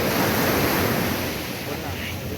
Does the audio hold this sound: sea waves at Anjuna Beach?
yes